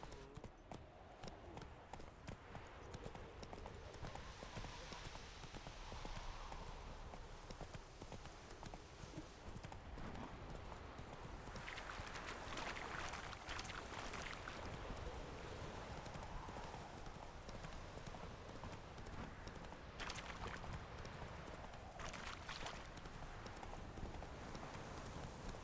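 Steady clip-clop of Roach's hooves while riding in The Witcher 3, a continuous rhythmic trot on the ground under ambient game sound, with an occasional faint whinny.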